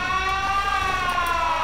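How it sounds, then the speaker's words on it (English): A warning siren in the Battlefield Heroes video game, sounding when a player walks off the edge of the map: a steady, loud electronic wail with stacked tones, continuous and alone without talk. "that siren was me walking off the edge of the map"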